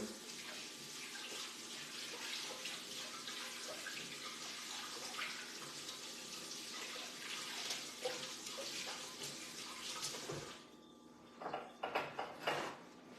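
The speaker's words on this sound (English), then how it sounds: "I am going to rinse my spoon off because I don't want any chocolate to get in my whipped cream" Tap water runs steadily into a sink as a spoon is rinsed off after spreading chocolate for an Andes mint brownie dessert, a continuous close splashing rush that cuts off near the end, leaving a few brief clinks and rustles.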